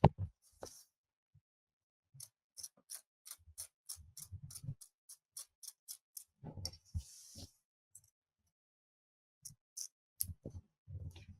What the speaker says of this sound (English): grab your favorite pair of applique scissors, and you can trim